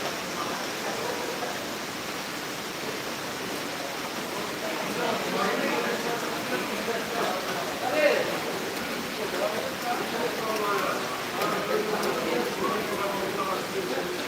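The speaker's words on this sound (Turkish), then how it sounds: "Çok fena yağmur başladı." Heavy rain falls on the streets of Marmaris, a steady broadband hiss that swells slightly partway through, with scattered drops and splashes.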